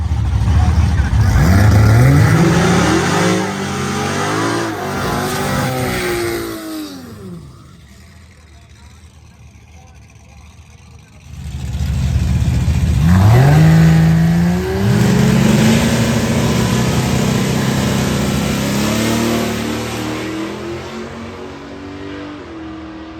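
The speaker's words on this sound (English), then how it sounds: "Next up was my pass with the station wagon, and we tried a little bit more boost." Turbo inline-six station wagon makes a drag racing pass on higher boost: the engine roars loud and close, revs sweep up through gear changes, it drops away briefly, then returns with another hard rising pull.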